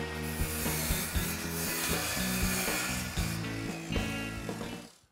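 A wooden rib is being sawn to length, a steady, loud rasping cut that runs continuously for about five seconds with rhythmic stroke pulses before stopping abruptly.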